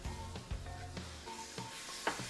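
Besan halwa roasting in a pan after a splash of fresh milk, giving a soft, steady sizzle with occasional scrapes and stirring knocks from a spoon, close up and fairly quiet.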